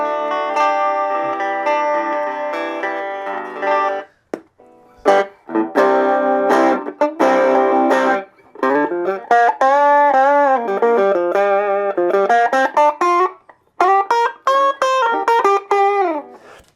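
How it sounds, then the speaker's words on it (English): A distorted electric guitar, a budget Donner, plays sustained chords through its amp turned all the way up with the drive off, then bent single notes, loud and buzzy, with brief gaps between phrases. "You turn it all the way up and you get distortion without the drive button being on"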